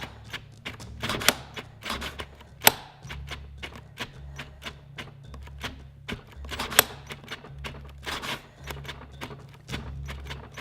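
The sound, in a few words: repeatedly clicking a cordless drill trigger past the thermal cutoff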